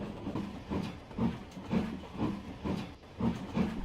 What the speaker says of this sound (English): he puffed and snorted round to the front of the train